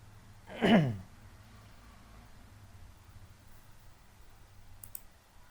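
A single sharp mouse click on a computer, short and fairly close, followed by quiet room noise and a faint tick near the end.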